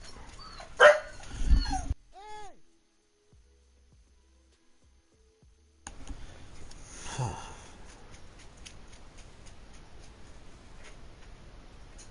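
A pet dog yaps and whimpers close by in sharp bursts at the start, falls quiet, then carries on with softer whines and ticking clicks over a faint room background.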